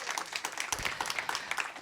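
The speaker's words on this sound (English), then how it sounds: "Let's give her a big round of applause." Audience applause at a mayor's education announcement, a brief patter of scattered hand claps from a crowd, distinct individual claps audible in a short quiet burst.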